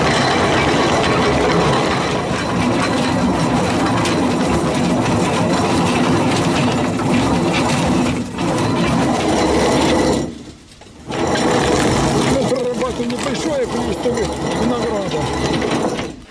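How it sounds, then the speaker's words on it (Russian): A grape crusher-destemmer separates Black Apiana grapes from their stems with a loud, continuous rattling and grinding churn that drops out briefly before resuming. "Прямо в дробилку на грузди. И начинаем отделение ягод"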